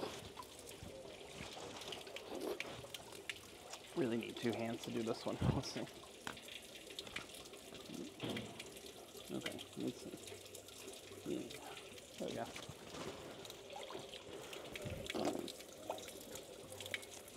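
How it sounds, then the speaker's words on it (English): Drinking water running from an ancient public stone fountain in Dubrovnik, a steady outdoor trickle and splash close by, broken by brief sips and handling while someone talks over it. "the fountains still work to this day, and supposedly this water is potable and drinkable"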